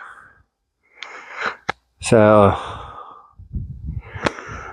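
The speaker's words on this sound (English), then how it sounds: "Sorry, I'm breathing heavy. I haven't hiking uphill in a while." A hiker breathes heavily after climbing uphill toward a rock formation: loud, close panting with sharp sniffs and a strained gasping wheeze, then a brief spoken word.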